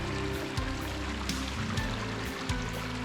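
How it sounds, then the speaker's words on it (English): The McLeod River in Northern California flows with a soft, continuous rushing and trickling of water, low and steady throughout. "Now listen to that beautiful, tranquil sound of the river."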